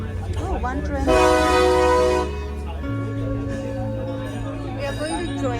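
The White Pass tour train in Skagway, Alaska, sounds a loud horn blast lasting about a second, then a lower steady tone and engine rumble carry on with faint voices around.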